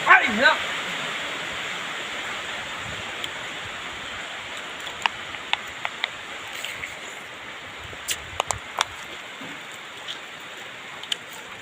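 Steady rainfall, a continuous broadband hiss with scattered sharp drips and taps on top, even and unbroken after a brief louder moment at the start.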